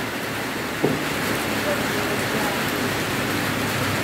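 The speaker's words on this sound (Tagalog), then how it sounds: "lakas ng ulan. Naabot kami ng ulan." Heavy rain pours steadily on an outdoor roadside during a motorcycle taxi ride in Mabitac, Laguna, a dense continuous hiss with one brief knock near the start.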